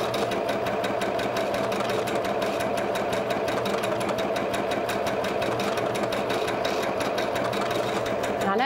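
A PFAFF Passport 2.0 sewing machine with a wing needle stitching fabric, running fast in a continuous, even mechanical whir with rapid needle clatter, close and steady throughout.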